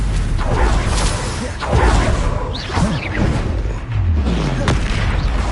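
Stupefy spell cast in the Hogwarts Legacy video game: heavy booming spell impacts and whooshing blasts burst repeatedly amid chaotic combat effects, with a player voice calling out spells.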